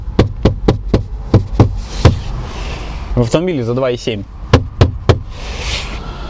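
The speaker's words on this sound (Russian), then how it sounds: "Больше всего жалуются, во-первых, на вот эту пластиковую накладку у лобового стекла." Sharp knocks on the rattling plastic windshield cowl trim of a used fifth-generation Ford Explorer, a quick series of close raps, then a pause while someone speaks, then a few more knocks.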